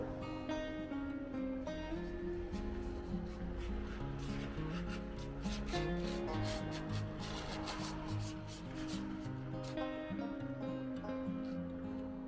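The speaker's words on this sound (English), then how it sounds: "we're gonna take out the excess wax with our flat scraper" A flat scraper draws excess dried wax off cross-country skis in a steady, continuous rasping scrape that stays close and even throughout.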